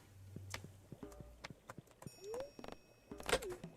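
Horse hooves clip-clop in Stardew Valley, a run of quiet, evenly spaced light taps with soft chimes and game effects around them.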